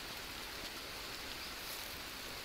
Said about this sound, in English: in this game, it tends to rain a lot